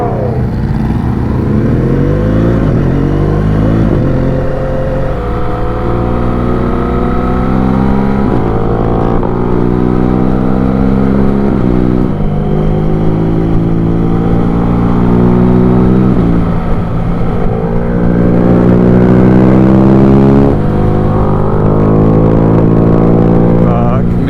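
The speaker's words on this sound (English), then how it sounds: "I literally can't think with the sound of Alex's bike ahead" A loud Yamaha R1 motorcycle engine drones continuously, rising and dropping in pitch through repeated gear changes with upshift cracks and downshift pops, heard from a following bike with constant wind and engine roar throughout.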